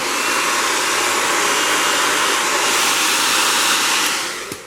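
A heat gun blows hot air onto faux crocodile upholstery fabric on a barstool so the material can be folded into a pleat. It makes a loud, continuous blowing roar that holds steady, then tapers off at the end.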